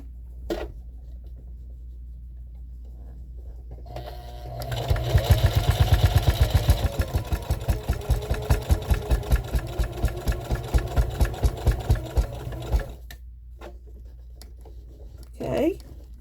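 A sewing machine with a fresh needle stitches a reusable scrubbing sponge, first whirring up, then settling into a rapid, even chatter of needle strokes for about eight seconds before stopping, with faint clicks around it.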